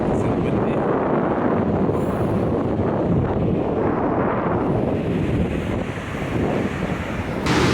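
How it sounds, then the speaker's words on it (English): Heavy wind buffeting the microphone of a Sony RX100 Mark III on a New Zealand beach, a constant low roar with surf washing underneath, loud and unbroken. "How's the wind? Is it windy?"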